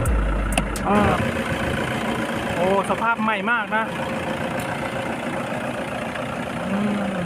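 A steady low idle from a Toyota Hilux Vigo Smartcab 2.5-litre manual pickup engine hums throughout while someone talks over it up close.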